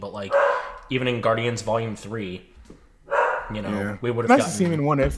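Dogs bark upstairs in a house, muffled and intermittent beneath continuous conversation between people close to the microphone.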